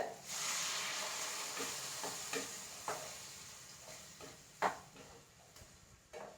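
Steady hiss and sizzle from a hot pan of bitter gourd curry with roasted coconut, with a few scraping stirs, as water is poured in and bubbles up.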